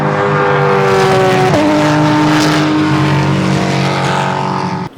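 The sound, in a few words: Chevrolet C7 Corvette race car doing laps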